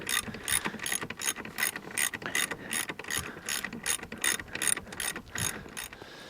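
Ratchet unscrewing a suspension bolt on a vehicle, rapid clicking pawl in quick bursts with brief pauses, close but fairly quiet, no talking.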